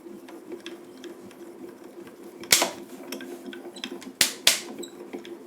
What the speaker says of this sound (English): Don't worry about that cracking noise, it's perfectly normal. It's just the die going into your cutting plate.